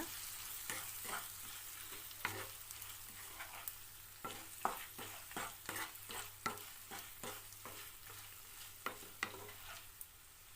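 Sliced okra (vendaikai) is stirred with salt in a hot pan, a steady sizzle under a run of sharp, irregular scrapes and clicks from the spoon against the metal, close and fairly loud throughout with no talking.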